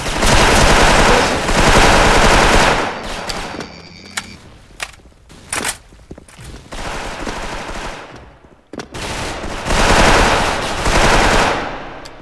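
Machine gun fire in a video game rattles in loud rapid bursts, with long sustained volleys separated by short gaps and single shots.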